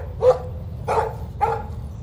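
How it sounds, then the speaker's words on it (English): A dog in the Life is Strange video game barks three times in a slow, evenly spaced series, moderately loud and fairly close over a low background hum, with no speech. "No barking."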